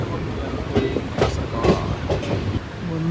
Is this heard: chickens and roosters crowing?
no